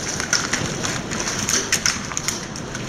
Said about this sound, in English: Got the hail starting to come down.